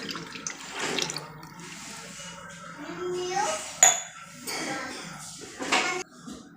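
Milk is poured into a cooking pot while making buffalo-milk kharvas, with a steady liquid splash and trickle, light clinks of a metal utensil against the pot, and a quiet voice in the background.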